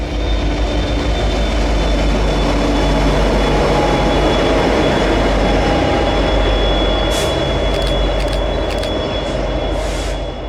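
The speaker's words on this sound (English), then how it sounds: "down came a set of ACUs on the same track" Helper locomotives (ACUs) run on a mountain railroad track in steady, loud rumbling passage lasting throughout, with rail noise and brief higher squeals near the end, no talking.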